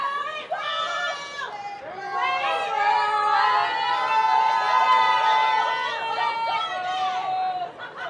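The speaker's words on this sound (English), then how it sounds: "Crowd is becoming more vocal." A stadium crowd at an SMU vs. Cal ACC men's soccer match in 2024 swells into sustained, tonal chanting and shouting that carries steadily from a distance, loud and continuous throughout.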